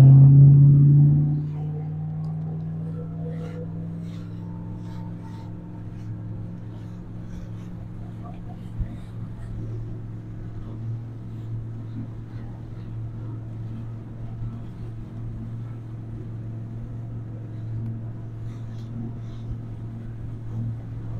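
A steady low engine drone from a boat at full throttle near Duluth's Aerial Lift Bridge, loud and constant with a deep rumble, after a brief louder burst at the start.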